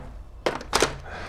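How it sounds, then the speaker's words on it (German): A magazine slots into an XSHOT Regenerator toy blaster with two quick plastic clunks, close and fairly loud, over a quiet room background. "Na dann rein mit dem Magazin."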